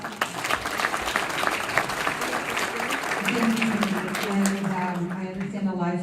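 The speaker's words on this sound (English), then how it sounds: "So let's give Jennifer French a round of applause." Audience applause at a public forum rolls on as a steady, moderately loud clatter of clapping, with a voice starting to talk over it partway through as it winds down.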